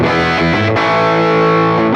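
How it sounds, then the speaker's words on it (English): An electric guitar played through a distortion preset on a Quad Cortex amp modeler rings out loud and sustained, with a couple of chord changes and no talking. "Adds a little bit of distortion and also obviously a little bit of volume as well"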